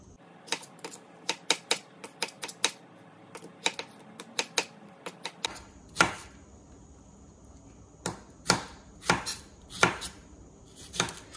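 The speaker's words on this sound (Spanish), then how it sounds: "Yo voy a picar unas redonditas y otras también a lo largo." A knife chops strawberries into rounds and lengthwise slices on a cutting board. Sharp, crisp taps come in quick rapid runs, then slower separate cuts, close and clear with no talking.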